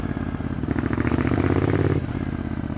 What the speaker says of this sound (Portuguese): Aqui realmente ouço o barulho verdadeiro do escape como se estivesse na rua.